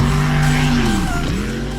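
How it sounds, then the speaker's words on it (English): A monster mud truck launches hard on a dirt track, its engine roaring loud and close with a strong steady drone that shifts pitch as the revs change mid-run. "This monster mud truck launches hard, throwing dirt everywhere as it flies over the track"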